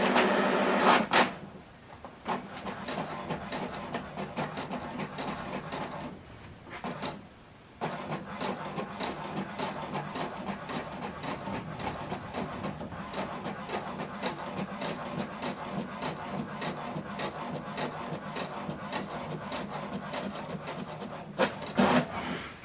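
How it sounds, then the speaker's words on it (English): An HP Deskjet 2820e printer feeds and prints a double-sided page: a short burst of mechanical whirring, a pause, then a long stretch of rhythmic carriage shuttling and paper-feed clicks with a final rattle, close and moderately loud. "This is the document we printed out, double-sided, from laptop to HP Deskjet printer."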